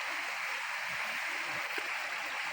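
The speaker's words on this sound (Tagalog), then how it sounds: "Mga bukal po to sa gilid ng bundok eh. Tabi ng sapa." Water runs steadily from a spring on a mountainside beside a creek, a constant close hiss and gurgle with no voices.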